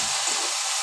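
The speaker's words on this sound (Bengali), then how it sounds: "তেল দিয়ে শুকনো লঙ্কা ফোড়ন দিয়ে আলু ভাজাটা চাপিয়ে" Potato slices frying in oil with dried red chilli tempering in a home kitchen, a continuous bright sizzling hiss, fairly loud and steady for under a second with no talk.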